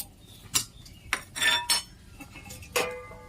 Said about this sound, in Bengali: একটু ফুটে গেছে, আবার ঢাকা দিয়ে দেবো।